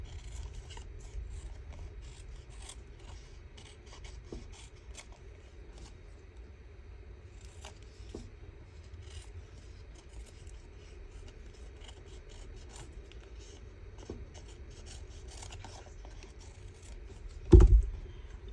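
Scissors snip through a paper collage strip for a junk journal at a desk, giving soft scattered cutting and rubbing sounds, quiet and close, ending in a sharper thump.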